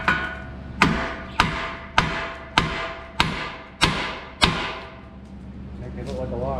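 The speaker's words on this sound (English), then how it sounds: "when you're taking the tie rods off, hit it from the side, not from the top" A hammer strikes a tie rod from the side to free it, seven sharp metallic blows in a steady rhythm about half a second apart, close and loud, each ringing briefly before the next.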